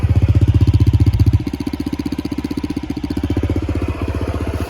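A restored 2002 Legenda 2 motorcycle engine idles close by with a fast, steady putter, slightly louder at first and then settling into an even rhythm.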